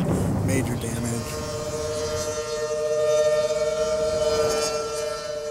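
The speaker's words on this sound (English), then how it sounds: "Twenty minutes before the tornado hit Greensburg, its warning sirens rang out." Tornado warning sirens sound across Greensburg, a steady wailing tone held over a broad, rumbling background roar.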